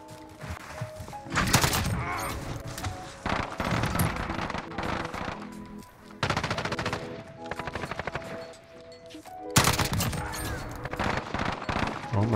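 Rapid bursts of automatic gunfire in the Modern Warfare video game, loud and close, with several dense volleys and short pauses between them across the span, with no talk over it.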